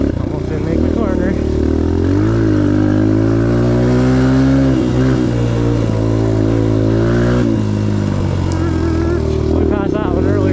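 A 2022 Suzuki DRZ125L motorcycle on a test ride revs loudly up and down through the gears, its engine rising and falling close up for the whole stretch.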